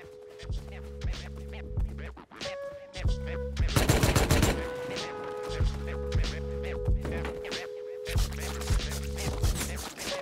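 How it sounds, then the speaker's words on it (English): Bursts of AK rifle fire in the survival video game Rust, several rapid automatic volleys with short gaps between them, loud and close, set against a steady in-game hum. "Oh no, I hear AKs."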